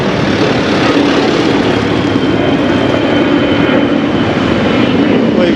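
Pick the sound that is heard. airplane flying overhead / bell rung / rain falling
airplane flying overhead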